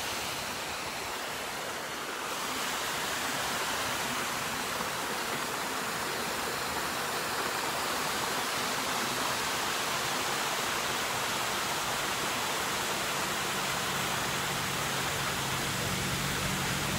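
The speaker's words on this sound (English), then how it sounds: "I just really love waterfalls." Waterfall with water falling over rocks, a loud, steady broadband rush that continues unbroken for the whole stretch, close by and with no voices.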